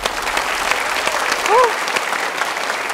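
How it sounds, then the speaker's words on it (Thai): Sustained applause from a studio audience at an Iron Chef Thailand cooking competition finale fills the whole stretch, dense clapping with a faint voice or whistle rising briefly partway through. "ขอเสียงปรบมือดังๆอีกครั้งครับ"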